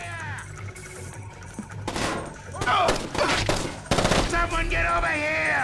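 Gunfire crackles through a bathhouse level of Splinter Cell: Chaos Theory, with several sharp bursts and heavy thuds alongside shouting voices.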